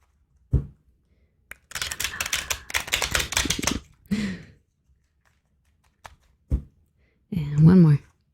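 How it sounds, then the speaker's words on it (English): Close, brisk riffling of a tarot card deck in quick rattling bursts, separated by pauses with a few soft taps, and a brief voice at the end. "We're going to get a few more shuffles."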